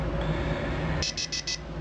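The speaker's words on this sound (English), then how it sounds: "if you leave this pill here, it's just going to keep beeping at you" An electronic pill dispenser gives four short, bright beeps in quick succession after a low steady hum, evenly spaced and fairly close.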